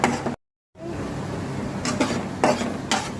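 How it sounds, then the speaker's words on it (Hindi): Something being dry roasted in a pan without oil or ghee for sonpapdi sweets, heard as a soft continuous scraping and stirring hiss with a few louder spatula scrapes, after a brief silent gap near the start. "बस ऐसे ही बिना तेल और बिना घी के भून रही हूँ"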